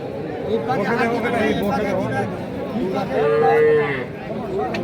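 At a cattle market where cows and calves are sold, a cow moos amid loud crowd chatter and bargaining voices, the low call rising above the babble partway through.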